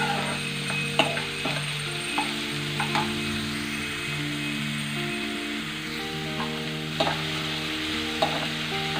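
Egg bhurji fries in a kadai with a continuous close sizzle, broken by scattered clicks and scrapes of stirring and a faint background hum. No one speaks.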